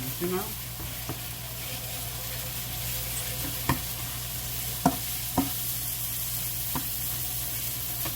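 Two pounds of steak meat frying in a pan, a steady low sizzle running throughout with a few sharp knocks and stirring clatters from utensils scattered across it.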